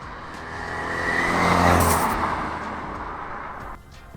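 A Ford RS with a small turbocharged engine, hybrid turbo conversion and stage 1 tune, accelerates hard, the engine note swelling to a peak midway before easing off and dropping away near the end, with no talk.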